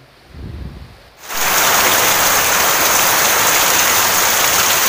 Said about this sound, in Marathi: पाऊस बघा किती जोरदार